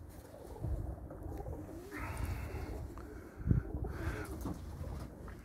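Pigeons at a loft in Elbląg coo softly in low, throaty bursts that repeat several times over a quiet background hum, with one slightly louder coo near the end and no talking.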